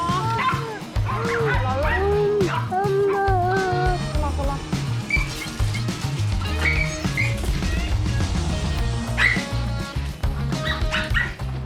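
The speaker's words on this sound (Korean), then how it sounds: "이거는 정상 범위의 짖음은 아니에요" A dog barks, yips and whimpers persistently and excitedly in a home, the sounds high-pitched and repeated throughout, with people talking over and between the barks.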